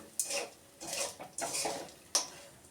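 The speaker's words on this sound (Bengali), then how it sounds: "এবার আমি আস্তে আস্তে একটু একটু করে নেড়ে দেবো" Melted sugar with mango in a pan over low heat, stirred slowly, with three or four distinct clinks and scrapes of a spoon against the pan and a faint sizzle between them.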